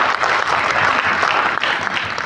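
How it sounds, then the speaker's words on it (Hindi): Audience applause at a company training session, a dense, steady wash of many hands clapping together, loud and sustained throughout with no talking over it. "तो एक बार शानदार ताली एफडीएसए के लिए।"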